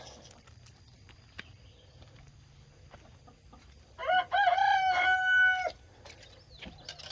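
A rooster crows loudly and close by, one long drawn-out call followed by clucking from the fowl, against a quiet background of steady rain.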